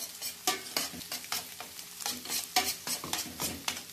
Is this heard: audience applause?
no